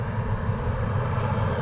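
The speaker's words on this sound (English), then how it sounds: "Iceland Air 75 is now taxiing as well to the start of 2-3 right" An Icelandair airliner taxis at Manchester Airport, its jet engines a steady, fairly loud rumbling drone without speech.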